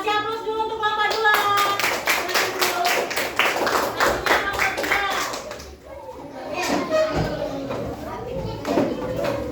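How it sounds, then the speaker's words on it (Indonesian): A classroom of fourth-grade pupils clapping for a group in a rhythmic, steady burst of hand claps that fades, then gives way to scattered taps, shuffling and children's chatter. "Kasih aplaus dulu untuk kelompok 2"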